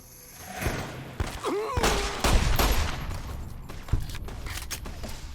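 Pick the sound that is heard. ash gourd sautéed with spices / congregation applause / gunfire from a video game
gunfire from a video game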